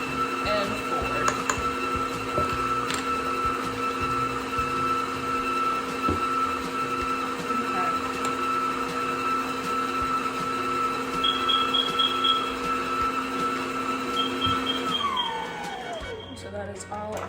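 Electric mixer whisking the wet ingredients for cookie dough: a steady, close motor whine with a bright tonal hum that runs unbroken for about fifteen seconds, then winds down and stops.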